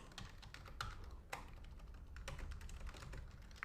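Typing on a computer keyboard while creating a folder: a quick, irregular run of close key clicks with a few sharper, louder strokes, no voices.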